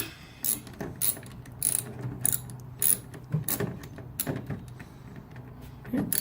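A ratchet loosens a nut on the door panel of a 1967 Mustang coupe, giving close, sharp clicking bursts in an uneven rhythm of about ten strokes, with no talk.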